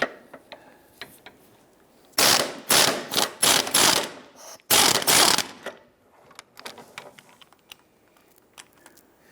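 Socket wrench ratcheting with a swivel socket and extension on a 15mm engine mount bolt of a 1999-2004 Jeep Grand Cherokee 4.7L V8, several loud close bursts of rapid clicking, then lighter scattered clicks and metal taps.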